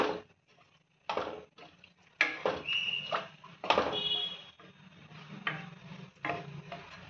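Egg curry simmers in a pan as coconut milk goes in, with bursts of bubbling and spoon stirring that come in uneven surges between quieter moments.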